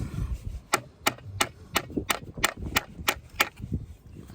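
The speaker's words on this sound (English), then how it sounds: "poke that through and hammer it into the hole." A series of sharp, evenly spaced hammer blows driving a screw into a hole while levelling a slate tile patio, about a dozen in quick rhythm, close by with faint background noise between strikes.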